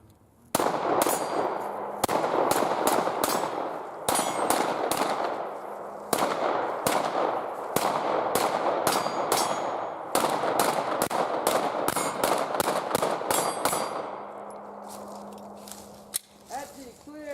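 Pistol shots on a firing range striking ringing steel targets, a long rapid series of sharp, loud reports with metallic clangs, fired in quick strings separated by brief pauses.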